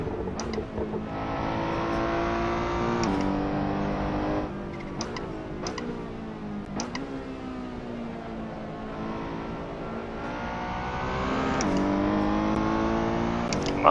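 A sim racing car in a video game on the Nürburgring drones at high revs, with engine pitch repeatedly dropping and climbing as it downshifts and accelerates, loud and continuous with no talking.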